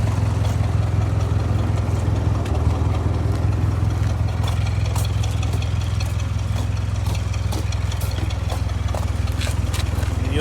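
A 1955 Ford 660 tractor engine runs steadily after a cold start, a loud, even low rumble that holds throughout without a break.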